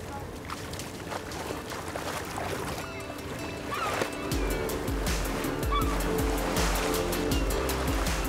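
Ocean surf breaks around a solo kitesurfer in open water off the volcanic islands of Cape Verde: steady rushing water that grows louder and rougher partway through, with choppy splashes and wind noise.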